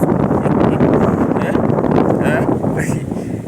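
Strong wind buffets the microphone at a high lookout point in Isibania, a constant low rumbling roar with gusty surges and a faint voice partly beneath it.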